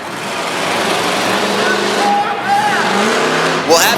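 Racing trucks coming out of a turn at a Pocatello, Idaho race, engines roaring loud and steady with tires squealing briefly near the end, while a commentator talks over the noise.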